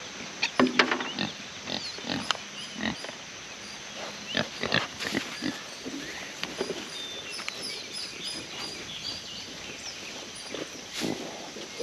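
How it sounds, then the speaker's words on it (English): Farm pigs oink and grunt at morning feeding time, repeated close snorts and squeals in an irregular rhythm, with some birdsong chirping and footsteps in the background and only brief, faint speech. "Good morning, pigs. You guys hungry?"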